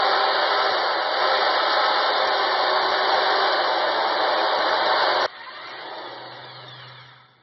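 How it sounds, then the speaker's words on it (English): Sandpaper rubbing excess solder off the bottom of a homemade all-fuel metal burner: a loud, continuous, close scraping rasp for about five seconds, then an abrupt drop to softer, fading friction and handling noise. "usually I have to sand that down a little bit to make it fit inside there"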